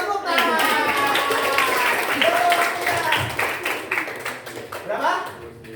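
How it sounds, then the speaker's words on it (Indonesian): A classroom of children claps together in a dense, sustained round of applause lasting several seconds, close and loud, with children's voices mixed in and tailing off near the end. "Tepuk tangan"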